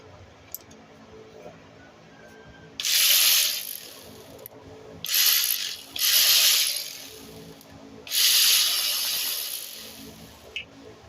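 A ratchet works a bolt loose on the step motor of a 2008 Nissan Sentra 2.0L, in four close, loud bursts of rapid clicking separated by short pauses.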